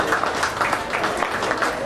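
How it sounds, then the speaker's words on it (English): A crowd at a county fair swine show claps for the exhibitors, giving a short burst of steady, moderately loud applause with no break. "Let's go ahead and give all these exhibitors a nice round of applause."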